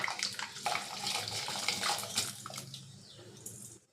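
Matta rice poured into a pot of boiling water, a close splashing, sloshing pour that tapers off over a few seconds.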